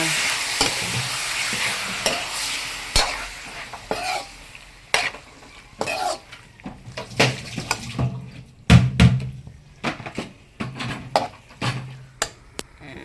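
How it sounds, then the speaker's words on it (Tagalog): Chicken stirred and fried in a pan, with a busy crackling sizzle and repeated sharp scrapes and knocks of a utensil against the pan, loud and close, growing more percussive toward the end, with no talking. "isusunod ko naman ay ang chicken. Haluin din na natin siya."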